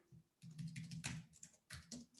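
Typing on a computer keyboard during an online community session: quick irregular bursts of close key clicks with short pauses between them, alone with no talk.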